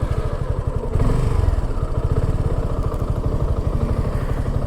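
A Suzuki motorcycle engine thrums steadily and close while riding on a highway, a continuous pulsing mid-frequency throb with no talk over it.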